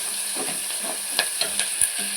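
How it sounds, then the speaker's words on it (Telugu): Ginger garlic paste frying in a pan for a beans, tomato and green chilli curry, giving a steady sizzle with a few brief scraping stirs and small clinks close by, no talking. "ఇలా వేగిన తర్వాత అల్లం వెల్లుల్లి పేస్ట్ వేసుకొని వేపుకోవాలి."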